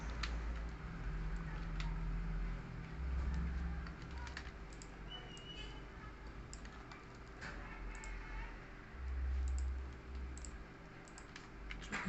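Quiet typing on a computer keyboard, soft scattered key clicks at a distance over a steady low hum, with no voices.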